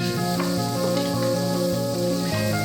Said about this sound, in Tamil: இப்போ நம்ம நறுக்கி வச்சுருக்க வெங்காயத்தை அதில் சேர்த்து வதக்கிக்கலாம்.